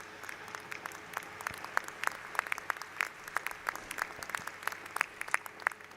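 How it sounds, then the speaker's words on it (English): Scattered applause from a small group at a PhD and master's commencement ceremony, sharp individual claps in an irregular patter, moderately close, with no talking. "You can applaud them."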